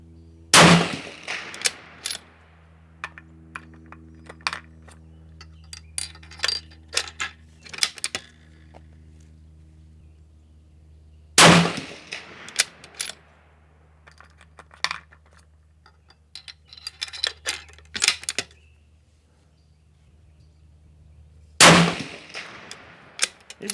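A Howa 1500 rifle fires 6.5 Creedmoor match ammunition and handloads at a range, three sharp loud reports spaced about ten seconds apart, with clicks and clanks of bolt handling and brass between shots.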